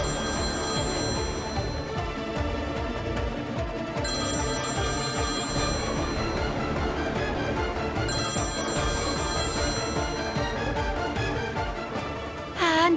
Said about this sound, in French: Anne, s'il te plaît, décroche